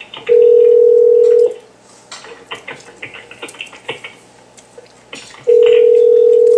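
A telephone dial tone sounds while a cell phone is being called, two long steady loud tones separated by a gap of faint rustling and clicks.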